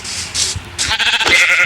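Sheep bleat in the video game Minecraft, two or three short bleats in quick succession, close and clear, with no voices.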